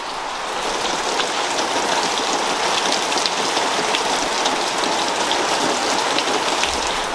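Fluid pouring out of a leaking big block Chevy engine, a steady hissing, splashing stream that runs loud and unbroken throughout, close by with no talk.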